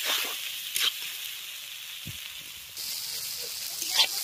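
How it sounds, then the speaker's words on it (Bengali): Chopped tomatoes frying in oil with mustard paste for a mustard-based fish curry, a steady close sizzle with a couple of sharp stirring clinks and a brief louder hiss near the end. "আর এই ভাজার সময় দিয়ে দিচ্ছি কুচিয়ে নেওয়া টমেটো।"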